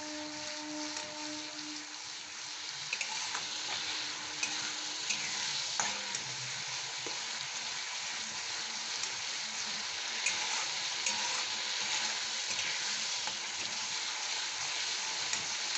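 Spices sizzle steadily in hot oil for Bengali chicken kosha, a dense continuous frying crackle with occasional stirring scrapes, close and moderately loud with no talking.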